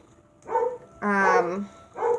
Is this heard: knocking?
no